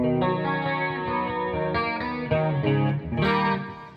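Distorted electric guitar modeled by a Roland GP100 unit, playing sustained chords and notes with a chorus-like shimmer, loud and close with no talking.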